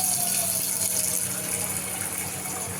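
Water is poured steadily into a container while a home remedy is being prepared, producing a continuous close, full gushing splash with no talking.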